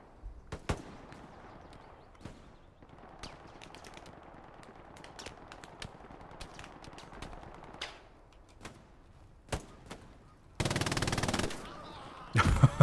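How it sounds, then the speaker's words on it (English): Machine gun fire in a Battle of the Bulge: Elsenborn Ridge team match, heard as scattered sharp shots and short bursts with a dense, loud rattling burst near the end. "As soon as you start firing as an MG, man, you become target number one."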